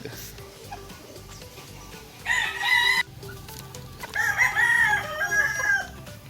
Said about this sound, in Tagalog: papakita ko po sa inyo mga katoka yung aking mga stag